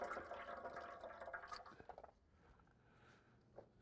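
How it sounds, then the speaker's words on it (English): Soaking water being poured off smoothie ingredients during a cooking workshop, a faint continuous trickle and splash that tapers off after a couple of seconds. "we're just gonna pour the water off these ingredients"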